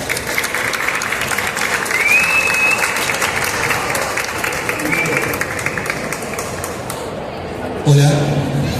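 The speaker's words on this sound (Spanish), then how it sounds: "un aplauso para ellas" Audience applause at a book launch presentation, a steady dense wash of clapping from a crowd filling the room, with a couple of brief tonal pings and a thud near the end.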